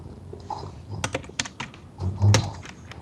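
Close-up keyboard typing: a burst of sharp, irregular key clicks with a few heavier key thunks, fairly quiet overall.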